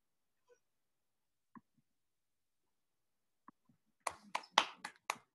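Several quick hand claps ring out close together in a short burst near the end, after a few faint isolated taps in near silence.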